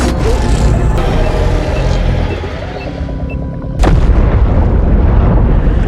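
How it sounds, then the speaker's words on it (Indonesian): A bomb blast in water during a film scene sends up a heavy roaring rumble, followed by a sharp loud burst near the end with a powerful low rush continuing after it. "Juming memintanya untuk melemparkan bom tersebut dan setelah ditarik ke dalam air"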